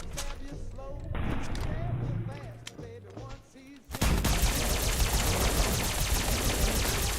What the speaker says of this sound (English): I just mag dumped. He ate so many bullets.